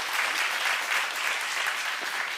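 A church congregation at a small-group leaders' retreat breaks into sustained, dense applause that carries steadily for the whole stretch, moderately close and without voices over it.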